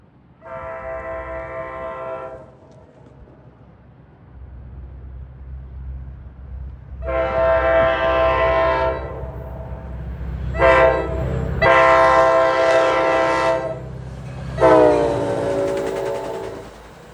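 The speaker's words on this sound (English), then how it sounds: "F40PH3C 4909 arguably has the best horn of the fleet." An NJ Transit F40PH3C diesel locomotive blasts its horn in a series of loud chords, long sustained blows followed by shorter bursts, with the low rumble of the passing train underneath.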